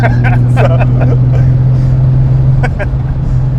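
Steady, loud engine drone from a VHR-swapped, boosted Nissan 350Z driving among cornfields, holding a constant tone with voices talking over it.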